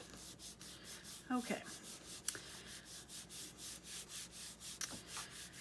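Soft, faint rubbing of vellum paper being pressed flat with steady back-and-forth strokes, quiet and close, with a brief spoken word.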